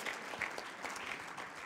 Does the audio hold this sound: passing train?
no